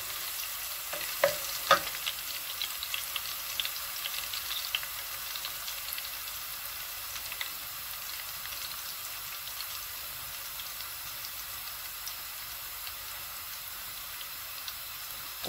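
Onions and ginger fry and brown in a pot for mutton pilau, with a faint steady sizzle, a few sharp clicks and stir scrapes early on, then a quiet continuous crackle with no talk.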